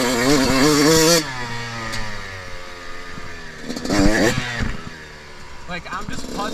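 A 2021 Yamaha YZ125X two-stroke dirt bike putters slowly along in second gear, its engine buzzing and rising and falling in pitch. A rider talks over it throughout.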